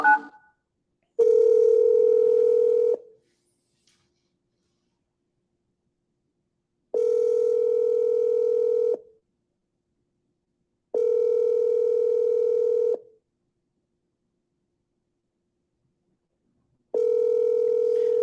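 A telephone line's steady dial tone sounds in four long, even bursts of about two seconds each, separated by silent gaps, loud and close, with no keypad beeps or talk.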